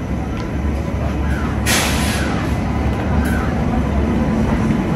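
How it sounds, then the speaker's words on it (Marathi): A passenger train on a Maharashtra route toward Roha arrives and passes a platform, giving a steady loud rumble with rail noise and a brief bright hiss or brake burst. "फायनली मित्रांनो ट्रेन आली आपली"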